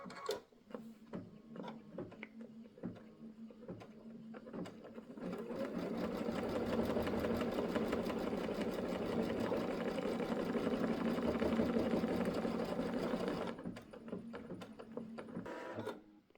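A computerized embroidery machine stitches whiskers and cheeks onto an applique quilt block, a steady rapid needle chatter that runs continuously for several seconds after a few short starts and stops, close and clear.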